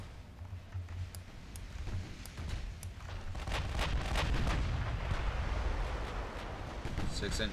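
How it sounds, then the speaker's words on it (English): Naval guns in the video game Ultimate Admiral Dreadnoughts fire in deep, rumbling booms that roll into continuous low thunder, with repeated distant blasts swelling and overlapping, and a voice talking over the battle. "They're wasting their 9-inch gun ammunition like nothing."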